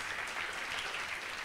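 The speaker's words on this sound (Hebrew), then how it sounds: "עדי דניאלה, מגיע למחיאות כפיים למעלה" An audience applauding at a religious lecture, a dense, steady wash of many hands clapping from a crowd, sustained throughout with no voices on top.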